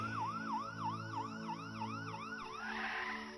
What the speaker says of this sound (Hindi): थोड़ी ही देर में पुलिस की गाड़ी आ जाती है